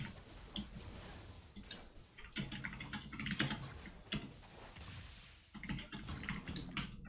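Fast, uneven bursts of key clicks on a computer keyboard come in clusters with short pauses between them, close and fairly quiet, with no voice over them.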